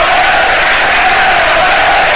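A football crowd roars and cheers steadily at a Burnley v Watford match in Burnley, a dense, continuous wash of stadium noise with no break across the moment.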